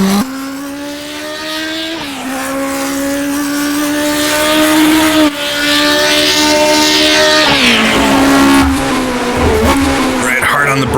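A 1960s Formula 1 car in rFactor 2 roars loud and close, its engine pitch climbing through the gears in long rising sweeps with brief dips at shifts, the race car screaming continuously.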